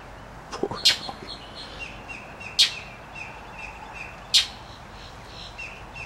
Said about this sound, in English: That bird bothered you, Howie.